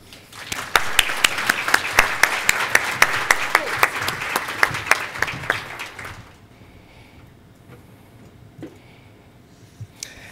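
An audience at a library technology conference applauds to welcome speaker Tarah Robertson: steady, full clapping from a crowd for about six seconds, then fading to scattered claps and quiet room noise.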